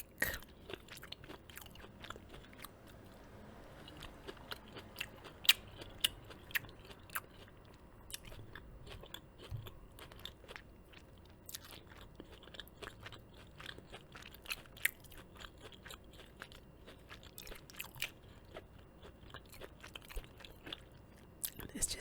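Close, crisp crunching and chewing of kale seasoned with cayenne, soy sauce and sesame oil, with repeated bites and wet mastication continuing steadily throughout.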